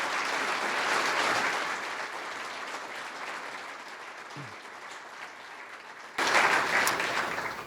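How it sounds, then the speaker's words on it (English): Sustained applause from an arena crowd for university student athletes, a broad wash of clapping that eases slightly midway, then swells louder again near the end, with no talk over it. "give our student athletes a round of applause on a great season"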